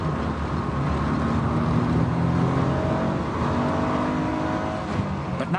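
A powerful police traffic car accelerates hard during a high-speed chase behind a speeding Ford Sierra, a loud sustained engine roar with rising, shifting tones.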